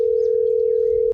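A telephone line gives a steady, loud single-pitch call tone lasting just over a second, then cuts off abruptly, alone with no talking.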